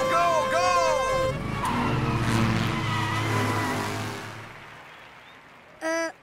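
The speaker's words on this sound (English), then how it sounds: "Drivers, start your engines." Cartoon car engines start and race away, rising and revving beneath animated character voices and music, then fading out before a short horn toot near the end.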